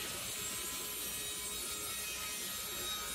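Resawing a wooden board with a thin kerf saw blade gives a steady, close grinding rasp of the cut, continuous and fairly loud throughout, with no talking.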